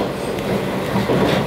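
A train on the Sotobo Line in Chiba, Japan, rumbles steadily along the rails near Katsuura, a loud continuous roll with faint rhythmic clatter, heard from inside the carriage.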